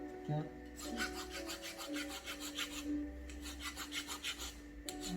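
Small raspy scraping strokes repeat in a quick, uneven rhythm as sandpaper is rubbed by hand against a small ring, close and quiet.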